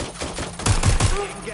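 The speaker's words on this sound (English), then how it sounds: "Gunfire over here!" Rapid bursts of gunfire in the video game Watch Dogs: Legion, a few sharp close shots in quick succession over a noisy background with faint voices.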